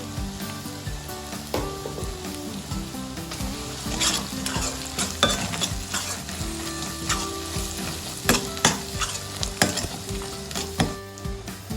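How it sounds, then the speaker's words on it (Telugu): Ginger garlic paste and turmeric fry in a pan for a ridge gourd prawn curry, a steady close sizzle broken by the repeated scrape and knock of stirring. "అల్లం వెల్లుల్లి పేస్టు చక్కగా వేగిందండి. ఇప్పుడు ఇందులోకి 1 స్పూన్ పసుపు వేస్తున్నా."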